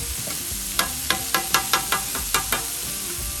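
Onions and mushrooms sizzle with a steady, bright hiss on a hot barbecue griddle, with a metal spatula tapping the surface in a quick series of close, regular clicks.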